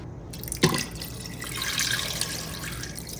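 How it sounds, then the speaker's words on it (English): Water is poured into an Instant Pot over beef to cover it, a sharp splash followed by a steady, close trickling fill. "I'm just gonna add enough water to cover it."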